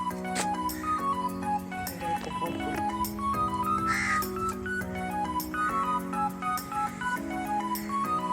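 A crow caws repeatedly near a home on a hot day, its calls rising over a steady tonal background with no talking.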